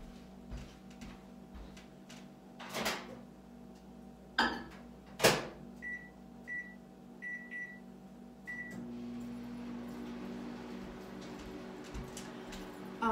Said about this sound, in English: I'm just going to put this in the microwave.